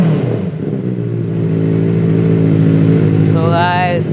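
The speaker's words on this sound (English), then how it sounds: "as you can hear the sound of XL 60 silencers of this bike" A Benelli 600i motorcycle fitted with XL 60 silencers idles loudly and close with a deep, steady exhaust rumble, then revs upward near the end.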